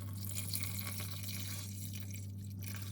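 Water pours steadily into a pot of pork belly, butternut squash, onion and garlic, a continuous close splashing and trickling with no talk.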